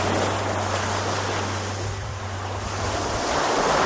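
Sea waves surging and washing continuously at La Manok Island in Masbate, a steady broad roar of surf with wind buffeting the microphone and a low engine-like hum early on, no voices.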